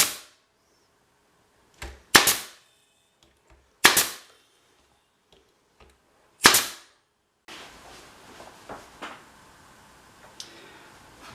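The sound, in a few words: staple gun stapling beehive frames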